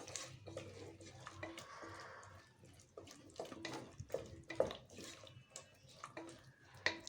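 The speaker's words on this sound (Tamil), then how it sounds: "இப்போ நம்ம எடுத்து வச்சுருக்க புளி கரைசலை சேர்த்துக்கலாம்." Tamarind water is poured into a sambar rice mixture, giving soft splashes and liquid trickles followed by wet stirring and squelching, close and fairly quiet, with no talking.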